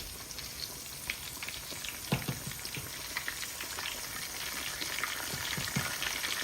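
Chicken pieces frying in very hot oil, Jamaican-style fried chicken, with a steady dense crackle and sizzle throughout and a few sharper pops, close and continuous with no talking.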